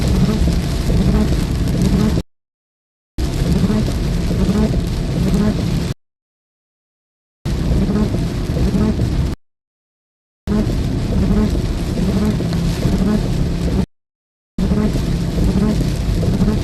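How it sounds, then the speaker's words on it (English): Rain falling during a storm chase across Iowa and Missouri, a steady hissing patter heard in several segments cut by abrupt gaps of silence, fairly loud and close with no voices. "That's some pretty light rain, actually."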